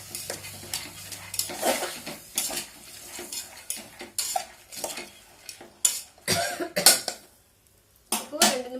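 A cowpea biryani mixture sautéing in a pan, with a light sizzle under frequent scraping and clinking of a spoon against metal in irregular strokes, close by, plus an occasional cough.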